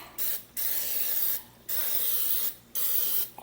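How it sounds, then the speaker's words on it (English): Greasing spray hisses into a 9 by 13 baking pan in three long close bursts, each about a second, with short silent gaps between. "Spray in the pan."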